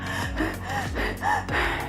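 A woman imitates the heavy panting of a mother in labour, a rapid run of loud, breathy gasps in a steady rhythm close to the microphone.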